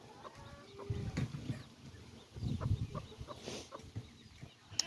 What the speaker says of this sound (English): This is my frizzle hen that I hatched out earlier this year.